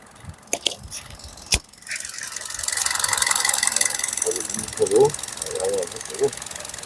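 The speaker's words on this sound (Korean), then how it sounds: "엔진 소리 한번 들어보겠습니다" A few mechanical clicks, then a used Hyundai Avante (CN7) engine starts and runs with a steady hum close by, while someone talks briefly over it during a used-car inspection; the car shows no oil leaks.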